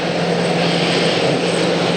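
A fixed-wing airplane at Atlanta airport gives off a steady, loud engine roar that holds evenly for the whole stretch, with no talking over it.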